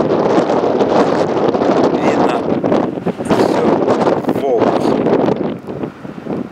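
Very strong wind buffets a microphone on a shore where a red flag is flying, producing loud, continuous roaring gusts that swell and dip.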